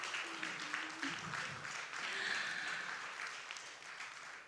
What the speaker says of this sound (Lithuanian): Didžiausiai aplodismentai keliauja ir jam bei dovanos saldžios.